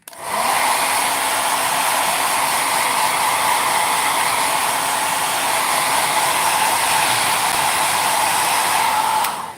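A heat tool or hair blower runs steadily while drying a freshly made sticker page for journaling, a continuous close whooshing hum that starts and stops cleanly with no talking.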